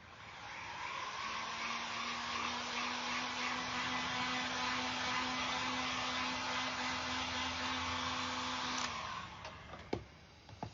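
A hair dryer blowing on a cardboard Amazon mailer jack-o'-lantern, a steady close whirring roar with a constant motor hum that runs for most of the clip, then cuts off, followed by a few light clicks.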